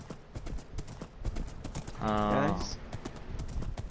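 Horse or donkey hooves clip-clop in a Minecraft game as a quick, steady run of close taps under a person talking, with a brief animal bray in the middle.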